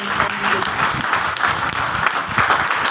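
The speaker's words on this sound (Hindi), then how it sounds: "एक बार शानदार ताली।" A seminar audience at a public-speaking and MLM training session bursts into applause, with many hands clapping steadily and densely for about three seconds.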